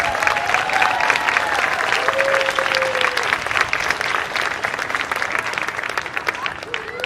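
Steady applause from an audience at an 8th grade promotion ceremony, continuous dense clapping lasting throughout with a voice briefly sounding over it.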